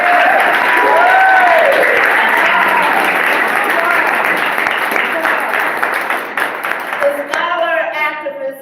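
An audience at a college Founders Day event bursts into sustained applause with some cheering, loud and full, with voices calling out over it before it tapers off.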